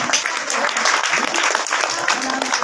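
Steady, thick audience applause fills a school annual results prize ceremony, loud and continuous for the whole stretch, with a voice speaking over the clapping.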